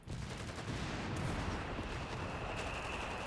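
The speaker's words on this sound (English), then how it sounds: "There's a barrage coming out of these 75mm." Company of Heroes 3 match with a 75mm artillery barrage, a dense continuous roar of overlapping blasts and gunfire filling the battlefield soundscape, steady and loud throughout.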